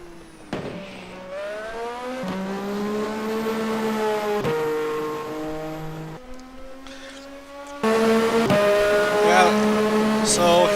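Simulated IndyCar race cars scream around a high-speed oval circuit, engines rising and falling in pitch as they accelerate and shift, with several cars heard in succession and a louder, closer car roaring through near the end.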